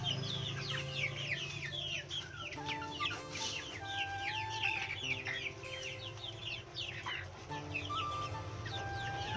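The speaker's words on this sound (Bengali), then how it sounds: "দেশি মুরগি রয়ে গেছে পুরা ঘরে" Native hens kept in a poultry house cluck continuously in a busy chorus of overlapping calls, and a rooster crows faintly now and then.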